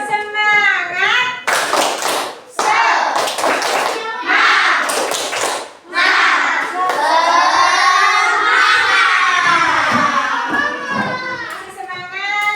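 A class of children in an Islamic moral-studies lesson chants the rhythmic Indonesian 'tepuk semangat' clapping cheer, with loud, close voices and sharp, patterned hand claps running throughout.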